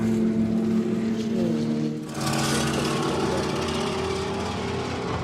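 The Pinnacle race car's engine drones loudly on the Mid-Ohio track during a WRL endurance race, with a steady mechanical buzz that shifts pitch and brightens midway as the car passes, heard alone without talk.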